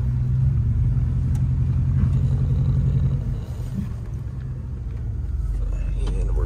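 A truck engine rumbles low and steady while the vehicle makes a turnaround on a quiet road, a close, continuous drone that dips slightly midway.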